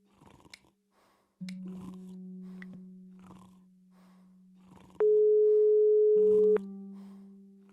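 Phone call tone in the Broken Sword 5 video game: a long low electronic hum steps up to a louder, higher tone for about a second and a half and then drops back, with faint clicks and murmurs at the start.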